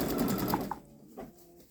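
Babylock Solaris embroidery machine stitching an edge-to-edge design on a quilt, a brief fast mechanical whir that winds down partway through.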